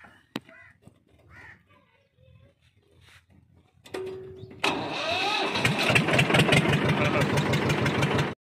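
A tractor engine cranks with a sharp catch, then catches and runs at a loud steady idle with a fast chugging pulse, close by. Before that come a few scattered quiet bumps and faint sounds.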